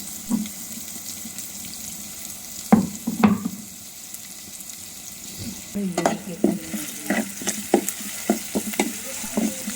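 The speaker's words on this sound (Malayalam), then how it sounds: "അതിനാവശ്യത്തിന് മാത്രമായിട്ടുള്ള സവാളയും പച്ചമുളകൊക്കെയാണ് ഇതിൽ ഇപ്പം നമ്മൾ എണ്ണയിലിട്ട് വഴറ്റി എടുത്തുകൊണ്ടിരിക്കുന്നത്" Onions and green chilies sautéed in oil for a Kerala fish curry: soft steady sizzle with intermittent scraping and stirring clatter, close, no voices.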